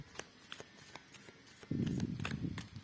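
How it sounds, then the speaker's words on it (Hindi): A deck of cards being shuffled during a tarot-style reading, with light scattered flicks early on giving way to a louder, sustained riffle near the end, close and alone without talk. "last shuffle"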